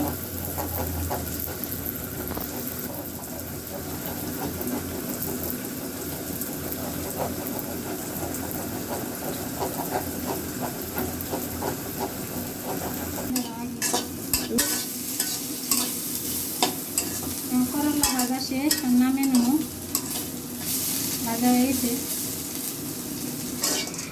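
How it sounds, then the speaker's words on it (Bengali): Dal cooking in a pot in a home kitchen is stirred continuously, a steady scraping swish over the sizzle of frying, with a few clinks toward the end and faint background hum. "আমার মায়ের ডেলটা ঘুটা দিয়ে দিচ্ছে"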